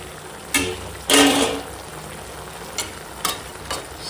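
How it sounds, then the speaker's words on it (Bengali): Chopped spinach and fried lentil dumplings dropped into a hot frying pan, a couple of sharp bursts of sizzle as each goes in, then quieter crackling and a few light stirring knocks. "এখন দিয়ে দেবো এই যে কেটে রাখা পালং শাক এখন দিয়ে দেবো এই যে ভেজে রাখা বড়ি"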